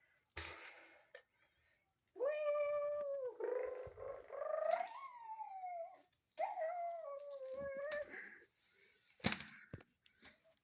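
A video game cat gives a drawn-out, wavering yowl that rises and falls in several long cries, separated by short gaps and scattered clicks.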